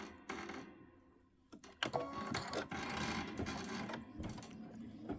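A sewing machine running a quilting stitch, quiet at first, then a burst of rapid mechanical stitching with a few pauses and restarts, close and fairly soft.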